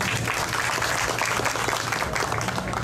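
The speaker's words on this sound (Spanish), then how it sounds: "Después el aplauso a medida que lo mencionemos" A stadium crowd at the Expo Macoris 2023 opening in Estadio Tetelo Vargas, San Pedro de Macoris, gives steady applause, a dense continuous clatter with a low hum beneath and a voice over the loudspeakers.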